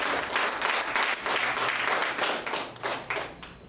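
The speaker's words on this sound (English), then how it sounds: "Give a round of applause" Audience applause in a hall, dense clapping from many hands, fairly even and sustained, with a few louder bursts near the end before it starts to thin.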